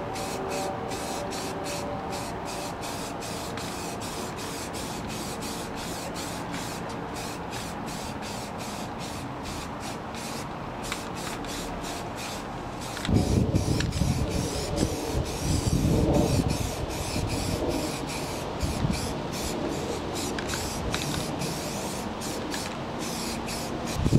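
Primer sealer sprayed outdoors from a can onto a metal motorcycle tank part: a steady loud hiss broken by rhythmic short pulses, with a rougher, heavier stretch midway, no talking.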